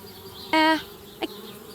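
Bees in a video game buzz around a tree house, with one short loud burst of droning buzz followed a moment later by a brief fainter buzz against a quiet background.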